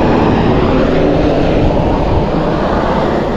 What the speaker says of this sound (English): is the National Guard medical chopper.